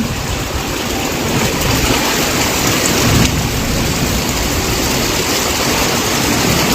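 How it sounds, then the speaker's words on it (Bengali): Torrential rain pours down steadily in Arambagh, Khanakul, loud and dense throughout, with a low rumble of thunder underneath and no voices. "খুব বৃষ্টি হচ্ছে হেলানো আমাদের খানাকুল যেটা খানাকুল থানার অন্তর্গত হেলান সেখানেও খুব বৃষ্টি হচ্ছে এই মুহূর্তে"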